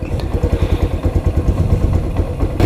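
A small Lifan KP Mini motorcycle engine starts and runs close by, its loud, rhythmic single-cylinder putt pulsing steadily at idle with some mechanical clatter.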